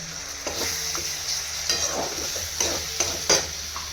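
Chopped green chillies hit frying ginger, onion and garlic in a kadai with a soft, steady sizzle, punctuated by a few light scrapes and clinks of a stirring spoon.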